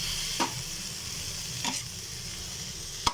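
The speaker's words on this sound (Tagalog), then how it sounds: "Halo-haloin mo lang." Kangkong sizzles with salt in a hot cooking pan, a steady close frying hiss broken by three brief scrapes of a utensil stirring the greens, with no talking over it.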